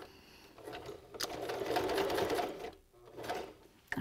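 A sewing machine stitches through the thick folds of a surgical face mask, running steadily and loud with a brief pause near the end before starting again.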